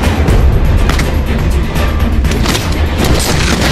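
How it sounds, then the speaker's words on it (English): A grenade detonates in the video game The Walking Dead: Saints & Sinners 2, a loud, sustained booming blast with heavy low rumble that fills the moment without a break. "That's a grenade. Look out. That's a grenade."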